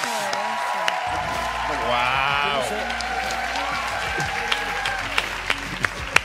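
An audience at a Got Talent Chile show applauds, with steady clapping and some crowd noise rising after a short quiet start. A voice exclaims over it, and a few sharp claps stand out near the end.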